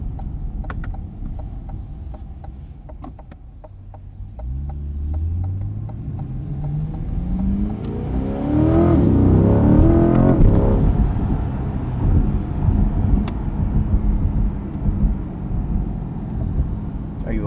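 A 2025 Chevrolet Corvette Stingray engine climbs in revs, its rising harmonic sweep swelling to a loud peak before settling into a steady drone, with a voice talking over parts of it.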